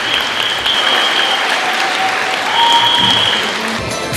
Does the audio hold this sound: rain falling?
no